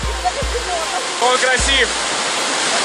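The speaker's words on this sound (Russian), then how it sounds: "Вот и добрались до Медвежьего водопада." Steady broadband rush of the Medvezhy (Bear) waterfall on a hiking trail, a constant close roar filling the whole clip while a person speaks briefly over it.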